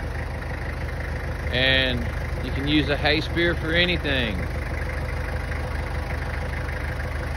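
A Kubota tractor idles nearby with a steady, low mechanical drone running throughout, while someone talks over it for a couple of seconds.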